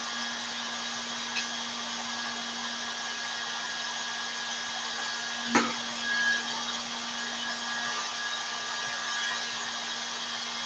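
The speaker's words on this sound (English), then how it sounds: "This happens because the hair dryer produces high, fast-flowing air" A hair dryer runs continuously, a steady close whir with a constant motor hum and airy hiss, with a faint knock midway as it holds a ball in its air stream.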